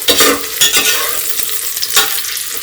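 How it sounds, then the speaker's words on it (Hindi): Garlic and crushed ginger frying with onion for a mushroom curry, a loud close sizzle broken by brisk repeated stirring scrapes against the pan. "लहसुन 15-16 कली है। 1 चम्मच अदरक हमने कूट के डाल दे रहे हैं। इन सबको भूजेंगे प्याज के साथ।"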